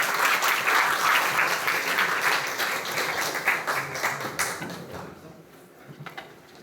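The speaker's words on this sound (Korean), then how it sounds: "큰 박수 부탁드리겠습니다." Audience applause at a lecture, a dense, steady clapping from a room full of people that rings out strongly and then gradually thins and fades toward the end.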